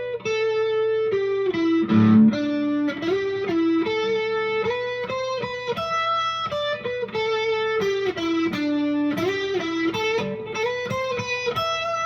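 Electric guitar lead playing a pentatonic-scale melody, drenched in reverb with some distortion, sustained bending notes flowing continuously and loud over steady backing tones.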